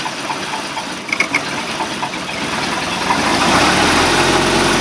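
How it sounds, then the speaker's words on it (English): The 1989 Baretta boat's stern-drive engine idles steadily, a couple of mechanical clunks sound as it is shifted into forward, and the engine note then grows louder and denser, close by with no talk. "Watch the engine while I shift it."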